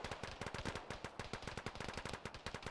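Sustained automatic gunfire in the video game Arma 3, a rapid unbroken stream of sharp loud shots close by, firing continuously throughout with no talk.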